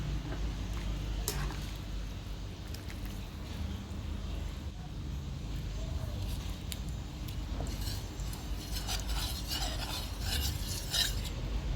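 Tapioca starch and water being stirred in a kitchen while making thick pork kuay jap noodle soup, a steady scraping, clinking stir running continuously over a constant background hiss.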